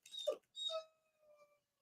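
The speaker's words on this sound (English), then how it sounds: "Do you guys hear my dog crying?" A dog cries indoors with a few thin, high whining tones, one longer drawn-out whimper trailing off, quiet and alone with no talk.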